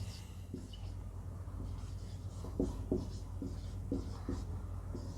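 Pen or chalk writing out a Hindi grammar example, faint scratchy strokes in short bursts over a steady low background hum.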